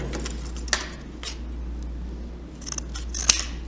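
Scissors cut through paper as a base piece is trimmed to size for a school craft model, giving a few crisp, close snips spaced about half a second apart in a quiet room.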